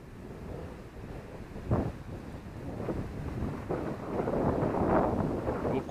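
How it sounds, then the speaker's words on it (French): Strong wind gusts across an exposed, unsheltered valley, buffeting the microphone in a loud roar that swells and surges over several seconds. "Beaucoup de vent. C'est un endroit où c'est pas très abrité."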